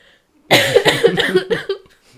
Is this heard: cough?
yes